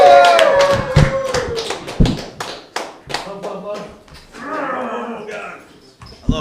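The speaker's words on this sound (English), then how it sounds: "Round of applause for Joe" Open-mic stand-up comedy crowd claps for a comedian taking the stage, a quick run of loud close claps with cheering and voices mixed in, thinning into scattered hand claps and chatter.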